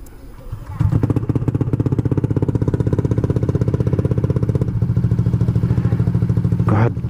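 A Honda Click 160 scooter fitted with a new dual-tip exhaust idles, then revs up into a loud, rapid, throbbing engine note held steadily for several seconds close by, with a brief voice near the end.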